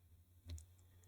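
A single computer mouse click, faint and close, over a low steady hum, with a couple of tiny ticks after it.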